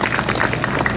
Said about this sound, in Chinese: 我们要给赞助者鼓掌啊